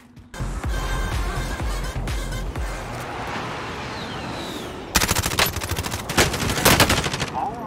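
Sniper and automatic gunfire in a shooter video game: bursts of shots give way to a quieter stretch, then a loud rapid volley of cracking shots near the end.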